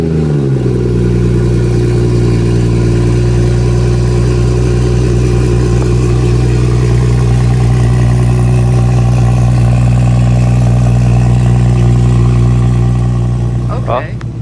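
BMW 440i with a B58 engine and a newly installed Active Autowerke downpipe, idling steadily after start-up with a deep even drone and no revving, close and loud throughout.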